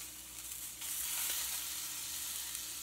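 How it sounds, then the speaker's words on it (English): Sausages sizzle softly in a pan, a faint steady crackle and hiss in the background. "sizzling a little bit in the background."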